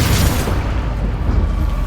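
A Bombarda blast spell goes off in Hogwarts Legacy, a loud, deep booming explosion whose rumble fills the whole moment and rolls on steadily without any pause.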